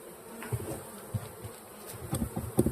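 Honey bees buzz steadily around a beehive, a dense insect drone with individual bees passing close and loud at intervals.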